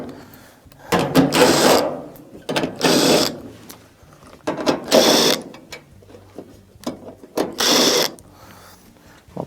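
A ratcheting driver backs out 1/4-inch screws from the back plate of a dryer, giving several separate bursts of rapid clicking, loud and close, with short pauses between them and no talk.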